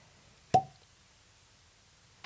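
A cork is pulled from a bottle of Talisker Surge whisky, giving one crisp hollow pop up close, then near silence with a faint clink at the very end.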